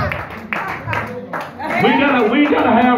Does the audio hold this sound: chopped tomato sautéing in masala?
no